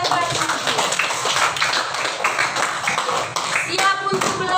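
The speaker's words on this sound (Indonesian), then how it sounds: "tepuk tangan untuk teman kita yang baik itu" Children in a second-grade classroom clap together, a busy, close, uneven patter of many hands that keeps going for several seconds with a few voices mixed in.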